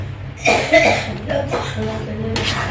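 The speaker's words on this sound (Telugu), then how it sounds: "దగ్గు బాగా వస్తుంది" Several harsh coughs burst out close by, separated by short pauses, with a low steady hum underneath.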